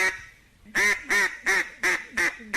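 Domestic duck quacks five times in quick succession, loud, nasal and close, each call evenly spaced after a short quiet start.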